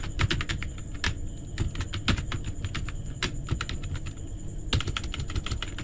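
Fast, uneven keystrokes clatter close on a computer keyboard as code is written in Google Apps Script, bursts of clicks separated by short pauses, with no talk.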